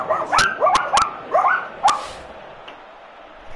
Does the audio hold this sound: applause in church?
no